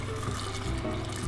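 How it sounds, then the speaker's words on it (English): Water runs into a cooking pot for veggie burgers, a steady soft gushing splash from a tap that stays even and fairly quiet, with no voices. "I usually just fill it up with water"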